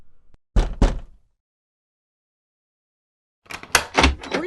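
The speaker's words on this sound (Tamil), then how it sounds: "ஒருத்தர் வந்து எவ்வளவு நேரமா கதவு தட்டிட்டு இருக்காரு?" Knocking on a door in an indoor Tamil film scene, two sharp heavy raps close together, then silence, then a louder cluster of rapid knocks.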